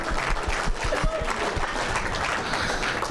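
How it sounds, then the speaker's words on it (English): A crowd applauds at a banquet and awards ceremony, a steady, moderately loud spatter of clapping throughout with faint voices underneath. "Bill Smith's going to clap."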